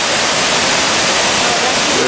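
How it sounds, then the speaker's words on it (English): The Great Falls in Australia pour down as a loud, dense, steady roar of falling water, broad hiss-like noise filling the whole clip without a break, heard up close. "The Great Falls in Australia"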